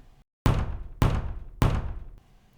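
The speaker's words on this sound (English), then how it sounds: "a crusty knock at the door occurred." Three firm, evenly spaced knocks on a door, close and resonant with a short boomy decay, following a moment of silence.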